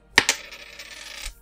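Coin flipped and landing during play of The Witcher game, a sharp metallic clink followed by a second ring and a brief shimmering rattle as it settles.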